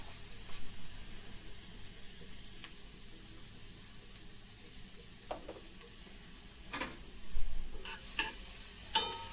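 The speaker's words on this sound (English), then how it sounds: "I'm going to saute this mushrooms as the pan is cooling down a little bit" Mushrooms sautéing in butter in a cooling pan, a faint steady sizzle with occasional quiet clicks and scrapes of a utensil stirring them, growing a little louder near the end.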